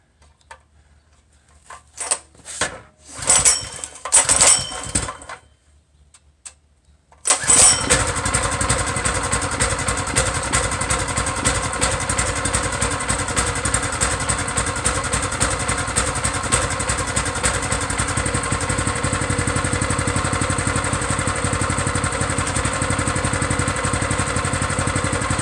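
A new Predator 212cc engine on a mini bike is pulled over through several sputtering, uneven attempts before catching, then settles into a loud, steady, close idle that carries on without talk.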